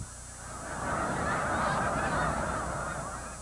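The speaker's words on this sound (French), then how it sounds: "D'abord le rassemblement des oies" A gathered flock of geese honks in a dense, overlapping chorus that swells and stays steady, outdoors over flooded farmland and with no voices.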